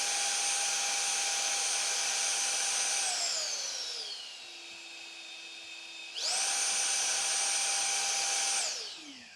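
Ryobi handheld leaf blower running steadily with a loud whine, winding down to a lower setting for a couple of seconds and then revving back up to full before cutting off near the end.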